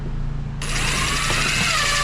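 A power drill spins up abruptly and runs steadily, close and loud, driving a screw into RV ceiling paneling while a 12-volt ceiling light fixture is mounted.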